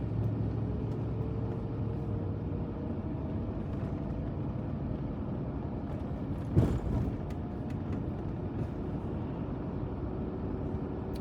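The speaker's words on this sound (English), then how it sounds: "I'm driving around." A car drives around a quiet beach town at Carolina Beach, a steady low engine and road rumble from inside the vehicle, with a brief thump midway.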